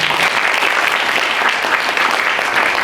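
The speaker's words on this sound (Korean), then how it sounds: "큰 박수로 맞아주십시오" A dense, steady wash of applause from a large audience welcoming the chairman onto the stage at a Korean youth forum. It is loud and continuous, with no voices over it.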